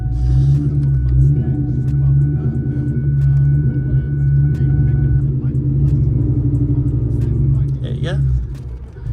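A 2004 Mustang GT's engine rumbles at low revs as a learner eases off the clutch, a steady deep drone with a slight rise near the end, while a person talks over it.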